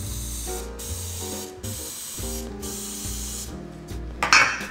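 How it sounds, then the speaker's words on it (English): Nonstick cooking spray being spritzed into the cups of a muffin tin: four short hissing bursts in a row, close and clear, followed by a brief clatter. "So I'm going to spray a little bit of nonstick spray in each one."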